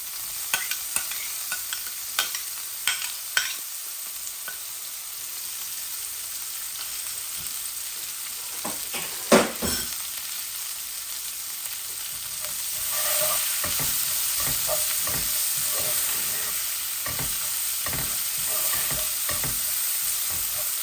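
Garlic and a small onion fry in a little oil in a Bangladeshi tilapia fish curry, the sizzle growing louder midway as a spatula scrapes and stirs in bursts, with a few sharp clinks early on and no talk.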